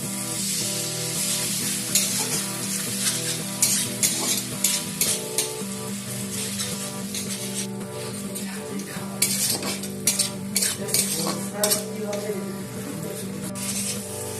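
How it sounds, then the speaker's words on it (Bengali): Spice paste with garam masala and a splash of water being cooked down in a pan for a vegetarian bread-ball curry, a steady sizzle broken by frequent spatula scrapes and metallic knocks against the pan. "এটা ভালো করে কষিয়ে নেওয়ার জন্য একটু জল দিয়ে দেব"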